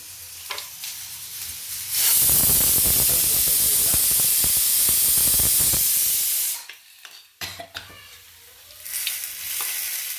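Hot tempering with curry leaves poured into green gram curry bursts into a loud, sudden sizzle that roars for about four seconds, cuts off abruptly, then gives way to quieter bubbling and stirring, all heard close.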